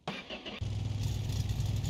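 A car's engine cranks briefly, catches and settles into a steady, loud idle up close, with a low rumble running unevenly afterwards in a garage.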